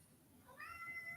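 A house cat meowing agitatedly indoors, one drawn-out, rising meow that is faint and distant over a low room hum.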